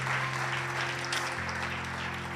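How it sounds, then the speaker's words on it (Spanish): Church congregation applauds at a fourth anniversary service, a continuous soft wash of clapping, moderately distant, with a steady low musical drone sustained beneath it. "le puedes dar un fuerte aplauso a Jesús"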